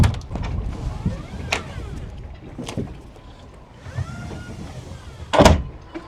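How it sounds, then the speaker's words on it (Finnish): A cabin door on an Axopar 45 Brabus boat is opened from inside, giving a few sharp clicks and thumps with a brief sliding rush near the end, close by over a low engine and water rumble, with no talking. "täältä kun sisältä avataan toi toinen ovi"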